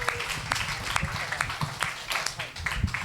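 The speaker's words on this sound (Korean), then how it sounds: "박수로 맞이해 주세요" Applause from a high school youth congregation welcoming a speaker to the front at a church service, a moderate roomful of clapping with distinct hand strikes and low rumble, voices faintly underneath.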